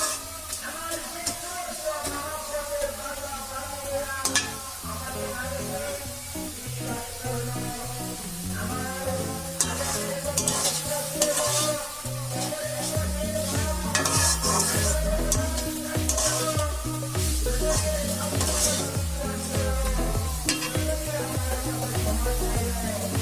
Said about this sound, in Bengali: অনেক সময় পর্যন্ত ভেজে নিতে হবে।